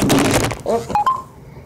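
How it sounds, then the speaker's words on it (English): A phone falls and clatters with a few sharp, close knocks and thuds against a hard surface, over a noisy background. "I already got my phone fucking falling down"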